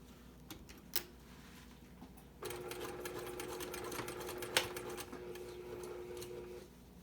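Sewing machine stitching a fabric Olson mask, a soft rapid whirring chatter that runs steadily for about four seconds after a couple of faint clicks, close but quiet.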